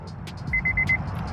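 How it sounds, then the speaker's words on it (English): A Honda Civic FD2 Type R sounds its key-in-ignition warning chime, four quick evenly spaced electronic beeps, clear and moderately loud over a low background hum. "that is the chime of the keys still in the ignition"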